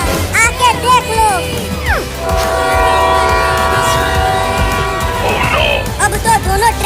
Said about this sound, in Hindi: इसी लाइन पर आगे से एक और ट्रेन आ रही है।